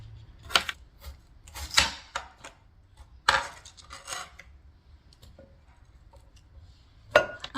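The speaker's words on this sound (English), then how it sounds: "now that we've got the potatoes cut up" Sharp knife strokes chop potatoes on a cutting board during home cooking of a one-pot dinner, coming as a few loud, irregular close thuds with quiet gaps between them.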